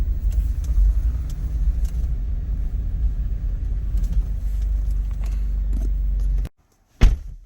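A 2017 Chevy Camaro rolls along with a steady low engine and road rumble heard from inside the cabin, cutting off abruptly near the end before a brief thump.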